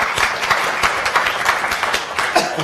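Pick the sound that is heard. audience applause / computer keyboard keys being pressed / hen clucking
audience applause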